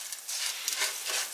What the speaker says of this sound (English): I'm starting to hear it sizzle